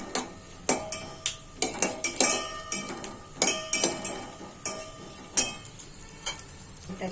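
Makhana (fox nuts) being fried and stirred in a pan, giving a string of sharp utensil clinks and scrapes over a faint sizzle, close and fairly loud, with no talking.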